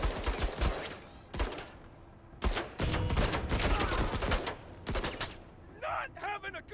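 Rapid bursts of gunfire in the tactical video game MENACE crackle in repeated volleys, sharp and fairly close, broken by short gaps, while a voice talks faintly underneath.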